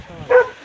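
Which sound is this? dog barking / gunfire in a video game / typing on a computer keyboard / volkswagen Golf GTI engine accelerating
dog barking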